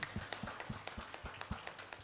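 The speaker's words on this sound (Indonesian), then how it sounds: "Tepuk tangan untuk Atomy" Sparse, fairly faint claps in a steady quick rhythm from an audience at a business opportunity presentation in a hotel ballroom, with no voices over them.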